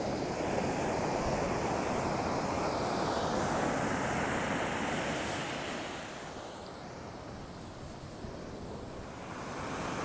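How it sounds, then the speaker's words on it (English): Ocean surf rolls onto the rugged Lost Coast shoreline in a continuous broad wash, loud at first and then easing slightly, with some wind noise. "I definitely can see these waves coming in quite high."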